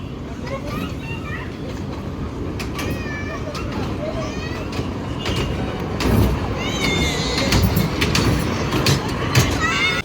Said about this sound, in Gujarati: જો હવે ચાલુ થઈ છે ટ્રેન